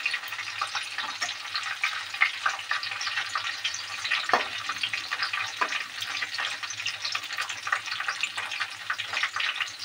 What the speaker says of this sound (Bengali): এগুলো মাছ এক পিঠ করে ভাজা হয়ে গিয়েছে, একবার করে উল্টে দেবো।